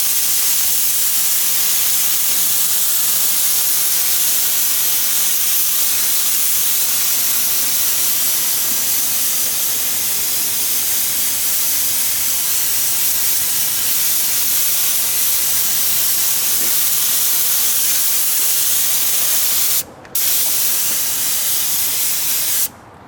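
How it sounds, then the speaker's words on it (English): Spray gun laying down hot upholstery glue on a 1952 GMC diesel truck seat outdoors, a steady loud hiss running almost unbroken, briefly cutting off near the end before resuming. "this is spraying out glue in like a spider web configuration."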